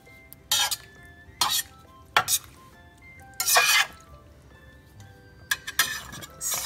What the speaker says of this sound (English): we'll give this a nice toss. Very gently because you don't want to break up this delicate fish.